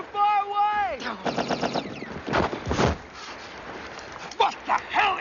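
Machine gun fire in a TV adventure show, bursts of rapid shots mixed with explosions and shouting voices, beginning after a descending whistle-like tone.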